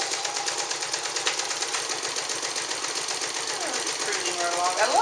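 A Nelco zigzag sewing machine runs steadily through four layers of fabric on a zigzag stitch, a continuous rapid mechanical chatter with someone talking over it.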